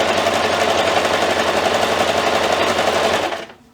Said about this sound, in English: just follow that line that I just pressed with my sewing machine